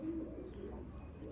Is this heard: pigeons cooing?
yes